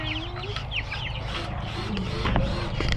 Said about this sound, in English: Feed the chicken some old biscuits.